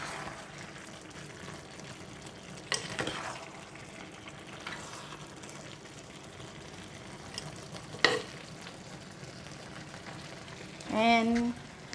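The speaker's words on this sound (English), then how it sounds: "Give it a stir." Spring onions are stirred into brinjal and minced pork frying in a clay pot, a steady sizzle with scraping stirring strokes and a brief bubbling pour near the end.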